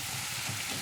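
Chopped onions fry and soften in a pan for chicken kizhi parotta, giving an even, faint sizzle with no speech over it.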